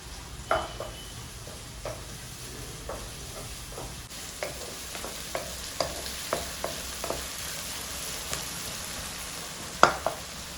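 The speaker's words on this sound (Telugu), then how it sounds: "ఎర్రగా వచ్చే బ్రౌన్ వచ్చే వరకు వేయించుకోవాలి" Dry fish frying in a pan until brown, village-style home cooking: a continuous low sizzle broken by a dozen sharp, irregular spatula clacks and scrapes, with a louder clatter near the end.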